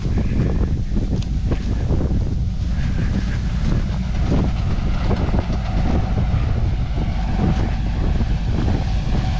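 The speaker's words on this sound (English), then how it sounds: "It is windy out and it's cold." Strong wind buffets the microphone in a constant low roar outdoors in a farm field, with rumbling and faint rattling underneath throughout.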